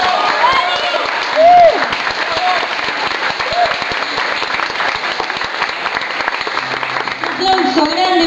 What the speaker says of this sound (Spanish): Así que un aplauso para él para empezar.